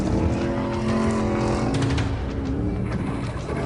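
A Ford F-150 Raptor SVT pickup tears off-road with all four wheels spinning, its engine roaring loud and sustained close by, a steady throaty drone with no speech.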